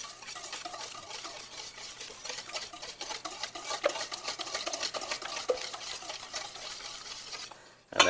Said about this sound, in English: We're going to whisk them together with our sugar, which is a 1/3 of a cup